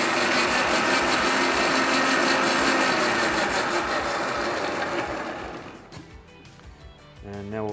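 A blender purees capers and oil, whirring loudly for about five seconds, its motor roar thick and steady, then winds down and stops, leaving quieter clinks and handling noises.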